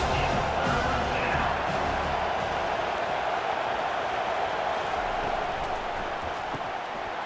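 A football stadium crowd roars steadily for the defense on a big third down, a dense sustained wall of cheering with faint announcer talk underneath.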